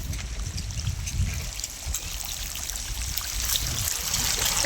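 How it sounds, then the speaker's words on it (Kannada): Water from a drip irrigation pipe trickles and splashes softly in a steady flow, with a faint continuous hiss and small gurgling bursts, no voices. "ನೋಡ್ಬೋದು ಇಲ್ಲಿ ನೀರು ಹೋಗುತ್ತೆ"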